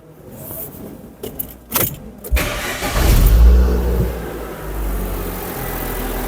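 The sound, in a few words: car engine starting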